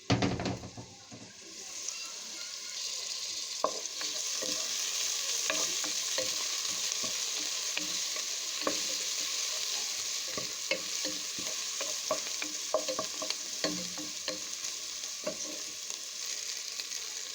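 Cauliflower, carrot and potato sizzle steadily in a pan, with repeated scraping stirs and clinks throughout, close and continuous.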